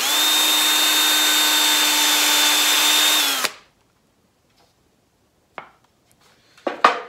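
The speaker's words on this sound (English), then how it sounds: "So I'm going to drill one hole, and then I'm going to put a screw in there." Power drill boring a hole in a cedar garden obelisk leg, a loud steady whine for about three seconds that stops abruptly, followed by quiet and a few handling knocks.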